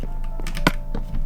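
Keyboard keys pressed during PC play of a Minecraft Legacy Edition-style game, a handful of clacks scattered across a short moment over steady game background noise, one sharper strike standing out.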